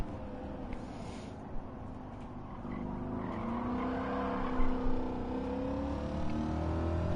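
A Ford 5.0 V8 in Gran Turismo revs hard through the gears, its rising engine tone broken by brief shift dips. The sound is loud, continuous and close, with no voices.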